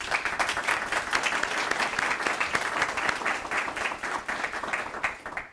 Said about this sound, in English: receive a well-deserved round of applause